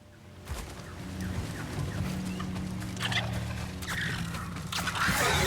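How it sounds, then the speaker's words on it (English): Birds flutter and squawk in Star Wars Jedi: Survivor, a few short bursts of calls rising over a steady low game ambience, with a louder flurry near the end. "Birds!"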